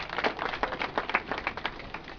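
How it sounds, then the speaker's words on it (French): Applause at an Airtel ceremony in Burkina Faso for the winner of a quiz, with dense, steady clapping from a crowd that holds at an even level throughout, no voices over it. "cela s'applaudit très très fort"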